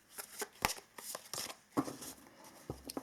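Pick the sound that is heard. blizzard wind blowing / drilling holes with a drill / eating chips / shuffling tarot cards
shuffling tarot cards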